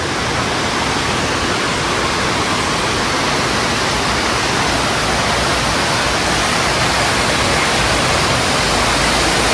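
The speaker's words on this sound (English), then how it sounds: "I didn't even know they had waterfalls here." Continuous rushing water from an indoor waterfall inside Sam's Town casino in Las Vegas, a dense, steady roar with no pauses and no voices.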